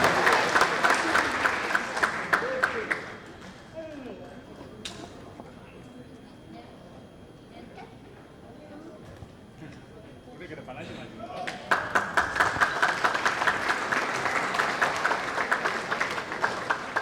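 Audience applause at a regional PPP party working meeting in Jakarta during a souvenir presentation, with loud sustained clapping that dies down to a quieter room with faint talk, then a second strong burst of applause.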